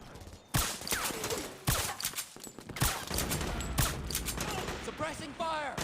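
Bursts of gunfire in Metal Gear Solid 4 crack out in an irregular, sharp volley of overlapping shots, with shouting voices mixed in among the blasts.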